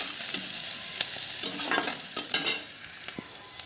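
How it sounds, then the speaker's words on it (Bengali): Onions and chillies fry in a hot pan with a steady sizzle, broken by repeated clinks and scrapes of a spoon as they are stirred, close and fairly loud. "এগুলো ভেজে নেব।"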